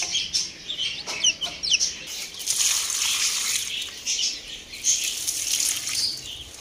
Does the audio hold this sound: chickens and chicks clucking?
yes